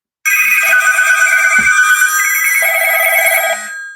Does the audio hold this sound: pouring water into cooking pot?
no